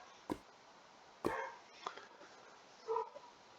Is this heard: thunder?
no